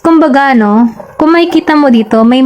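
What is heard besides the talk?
None of the usual background noises is heard.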